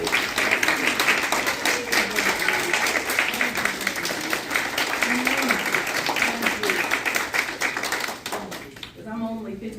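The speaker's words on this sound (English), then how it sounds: "I think we all should just take a moment to give her applause." An audience gives a woman a round of applause, a dense, steady wash of many hands clapping that fills the room for nearly ten seconds before thinning out at the end, with voices mixed in underneath.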